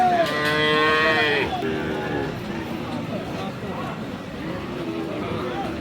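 Cross Friesian bull calves at a rural cattle market (Aftabganj haat) let out a loud, drawn-out moo up close, followed by a busy murmur of voices and market bustle.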